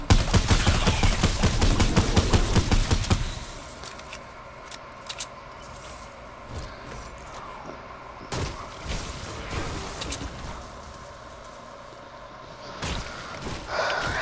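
A pump shotgun fires in the video game Fortnite: a loud, rapid cluster of blasts for about three seconds, then a few scattered, quieter shots amid game noise.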